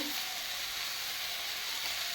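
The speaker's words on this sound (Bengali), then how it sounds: "পাঁচ ফোড়ন দিয়ে ফোড়ন দিয়েছি শুকনো লঙ্কা" Panch phoron and dried chili crackle in hot oil as a dense, bright, unbroken sizzle, close and steady from start to finish.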